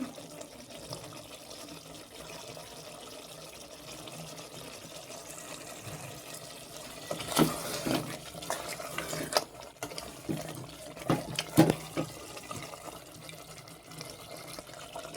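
Water poured into a pot of braised, spicy red mutton curry, a soft steady trickle at first that swells into louder splashing bursts toward the end, with no voices.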